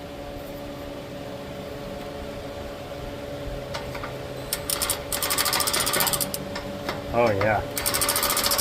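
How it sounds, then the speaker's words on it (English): A power wrench works on a car's catalytic converter, firing in short loud rattling bursts over a steady mechanical hum, with a brief spoken remark in between. "Let's use our fancy wrench."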